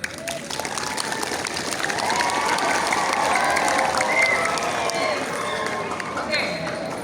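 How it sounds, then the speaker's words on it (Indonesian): Audience applause at a school student council (OSIS) inauguration ceremony at SMPN 1 Kademangan, a sustained wash of clapping from a crowd with some talk mixed in underneath. "Tepuk tangan untuk kita semua."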